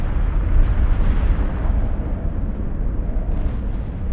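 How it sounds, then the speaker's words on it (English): Dense, rumbling explosion effect standing in for a solar eruption and coronal mass ejections, a loud sustained roar with heavy low-end boom and surging noise lasting about four seconds, no voices. "The sun erupted in a series of massive explosions called coronal mass ejections, or CMEs."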